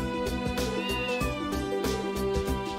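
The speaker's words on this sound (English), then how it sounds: "Meow." A cat meows in the video game Trails to Azure, one drawn-out mew rising over steady game background music, with no talking.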